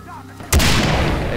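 A single loud gunshot in the video game Far Cry 3 bursts out sharply after a quieter stretch, then its booming tail rings on for about a second.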